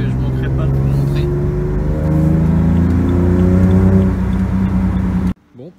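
A BMW E36 approaches with a steady, loud engine drone whose tone climbs gradually as it nears, then cuts off abruptly.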